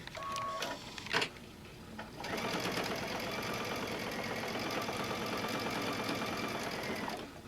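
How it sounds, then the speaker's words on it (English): A sewing machine sews a long basting stitch along the edge of a reading book pillow, with a few handling noises at first, then a steady, close motor hum that runs for several seconds. "I'm really going to be sewing close to the edge"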